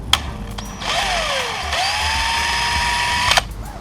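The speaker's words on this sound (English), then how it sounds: "I'm gonna re-drill" A power drill re-drilling a footpeg mounting hole on a 2016 Motoped Pro 125cc whines steadily for a few seconds, its pitch rising as it bites into material, close by with no talking.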